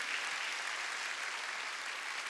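Steady applause from a church congregation at a Wednesday worship service in a Korean church, a dense, even patter of clapping held at constant loudness throughout, with no pauses or voices breaking through.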